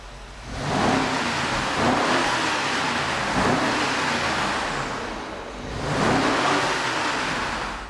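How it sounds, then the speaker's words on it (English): A warmed-up 2011 Alpina B7 V8 idles then revs in two broad swells, a deep, loud engine roar rising and falling heard close from outside the car. "I'm going to hop in it, rev it up a little bit, let you hear that V8."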